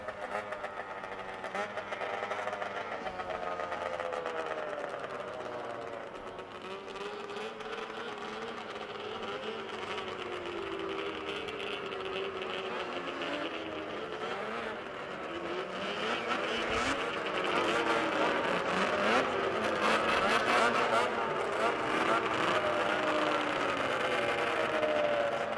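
Power toboggans race around a racetrack, their engines holding a steady, buzzing whine that rises and falls as the machines pass. The sound swells louder toward the end, with no talk over it.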